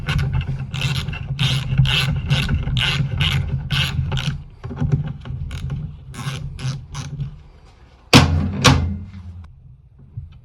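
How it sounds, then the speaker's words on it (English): Ratchet clicking in quick repeated bursts while tightening the oil pan bolts on a Toyota A131L automatic transmission, close and loud with short pauses between bolts, then a sharper metallic clatter near the end. "Now we can just gradually tighten them, alternating between bolts."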